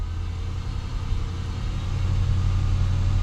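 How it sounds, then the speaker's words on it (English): Honda Civic Del Sol engine held at a steady, slightly raised idle as a little gas is applied, a continuous low rumble that grows a touch louder near the end, with no talking. "I'm gonna give it a little bit of gas, kind of one last attempt to charge up the battery"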